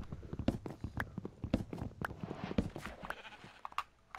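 A Minecraft sheep bleats among a series of rhythmic game sound effects, clicks and footsteps, repeated short sounds at fairly even intervals, fairly close and clear with no speech.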